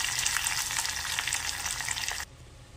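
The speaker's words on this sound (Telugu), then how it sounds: "చక్కగా ఈ రెండింటిని కదిలిస్తూ మిక్స్ చేసేసుకుందాం." Lentil dal with drumstick leaves being stirred in a hot pan, a loud continuous sizzling hiss with faint scraping that cuts off abruptly near the end, close up and without talk.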